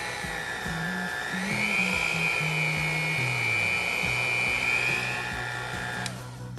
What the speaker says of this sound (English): 9-speed hand mixer with storage case